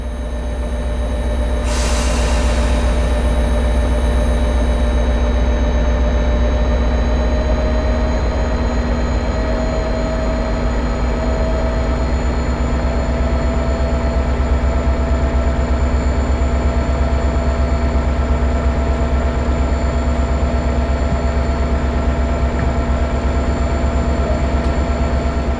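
F40PH-2CAT diesel locomotive in Train Sim World 2020 pulling away, a loud, sustained low engine rumble with steady tonal hum and a brief hiss of air near the start, no voices.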